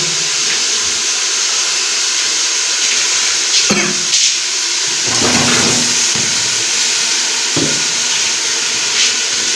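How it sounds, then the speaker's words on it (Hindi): Potatoes hit hot masala and oil in a pan and set off a loud, steady hiss of sizzling that holds throughout, with brief stirring clatters rising over it. "तो अभी हम स्टेज पे आके इसमें आलू ऐड करेंगे"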